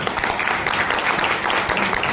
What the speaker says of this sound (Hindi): इनका एक जोरदार ताली होनी चाहिए